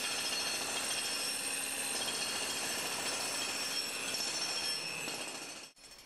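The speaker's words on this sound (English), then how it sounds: "we'll take a crack saw" A crack saw grinds steadily through a concrete floor, a loud continuous whine and rasp that cuts out abruptly near the end.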